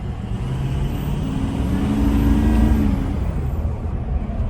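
A big, non-stock Ford F350 diesel pickup accelerates hard nearby, its engine roar climbing and swelling with a rising tonal drone before easing off, loud and uninterrupted by talk.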